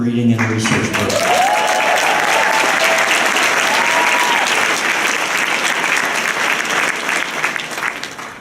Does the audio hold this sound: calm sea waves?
no